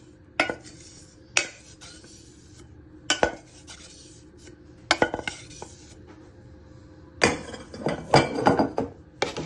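Crushed biscuits stirred with cold butter in a bowl for a cheesecake base, a close run of irregular clinks and scrapes of a spoon against the dish, in bursts with short pauses, and no one speaking.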